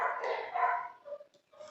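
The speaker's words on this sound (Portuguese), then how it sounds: "o ruído dos latidos dos cachorros" Dogs barking out in the street, a short run of muffled barks that trails off into a couple of fainter yips.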